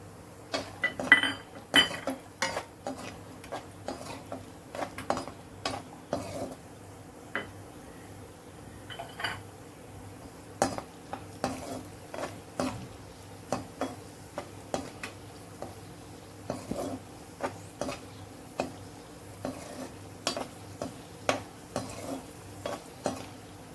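Cashews and dried red chillies fry in a pan, with scattered sharp ticks and clinks from a spoon stirring against the metal over a steady low hiss, all close and fairly quiet.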